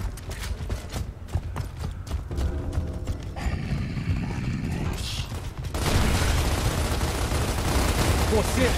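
Rapid bursts of gunfire in the video game Gears of War Ultimate Edition crackle over a busy soundscape, growing into a loud, continuous volley in the second half.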